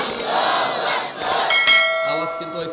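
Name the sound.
crowd shouting the takbir (Allahu Akbar) in response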